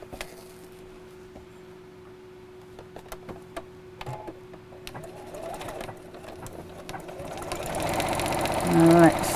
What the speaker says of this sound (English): sew over the top, just to make it 2 pockets instead of 1.